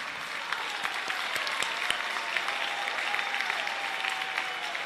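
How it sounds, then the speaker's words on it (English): An audience at the Jamaica Poetry Festival applauding a poet, a dense, steady roar of many hands clapping that fills the whole stretch, with faint crowd voices mixed in. "give her a round of applause."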